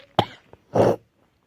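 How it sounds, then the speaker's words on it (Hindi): Two short, sharp coughs from a woman at a hospital on a cold night, close and loud, separated by a brief pause and followed by silence. "थोड़ी सी खांसी आ गई।"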